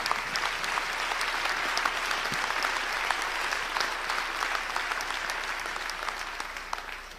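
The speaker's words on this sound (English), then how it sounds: "Let's give all of ourselves an applause." An audience at a celebration of African greatness held with the Abyssinian Baptist Church applauds, a steady, dense clapping that holds at an even level throughout, moderately loud with faint crowd murmur underneath.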